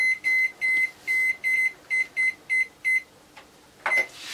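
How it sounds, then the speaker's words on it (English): A kitchen alarm timer is set for baking a coffee cake, giving about ten short, evenly spaced electronic beeps up close, then a pause and one last beep with a brief rustle. "I've just set my alarm."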